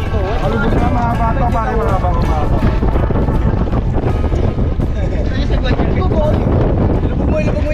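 Strong, steady wind buffets the microphone over rushing water on an open boat at sea while fishing for tilapia and crabs, with people talking loudly throughout.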